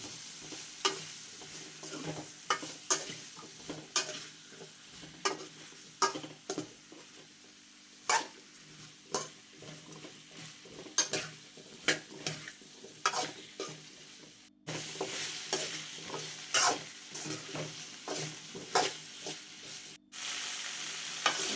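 Cut okra pieces being stirred in a cooking pan for okra curry, a rapid series of sharp spoon scrapes and clacks over a low sizzle, close and fairly quiet throughout.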